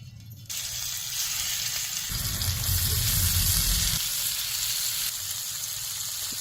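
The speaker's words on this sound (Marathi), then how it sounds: "मासे तळायला थोडंसं तेल टाकायचं." Fish frying in a little oil in a pan, giving a steady broadband sizzle that swells louder in the middle and holds without any talk.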